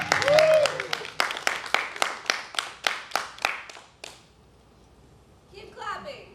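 A small comedy-show audience claps for a comedian taking the stage, a steady, fairly slow series of about a dozen sharp, close claps that stops and leaves a host speaking before and after.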